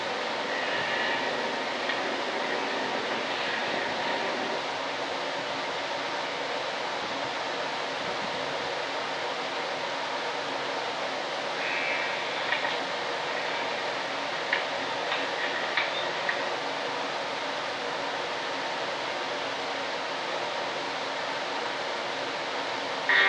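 Old recording of a GB airplane flying and coming in to land at Eldo: a constant, fairly loud engine drone with steady wind-like rumble, heard from a distance with little change throughout.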